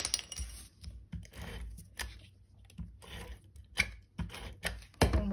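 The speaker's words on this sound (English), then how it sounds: "I'm going to use my tape runner." A tape runner lays adhesive strips on a cardstock greeting card, giving a series of short, close clicks and ratcheting rasps in irregular bursts separated by quiet gaps.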